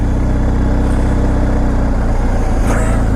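Pickup truck passing on a road, a loud low engine rumble with a brief whoosh near the end, heard over the steady drone of a motorcycle.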